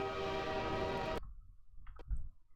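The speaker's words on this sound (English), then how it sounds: "you just want to hear that tiny little train horn puff sound" Brief train horn puff from the Half-Life 2 video game: a loud sustained tonal blast that cuts off abruptly, followed by faint clicks and thumps.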